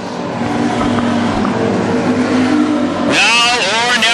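WISSOTA street stock race cars roar around the oval at Ogilvie Raceway, engines droning steadily and then rising into a louder whining sweep as cars pass close near the end, with a commentator talking over the noise.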